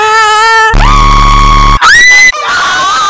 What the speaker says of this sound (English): I scream a lot.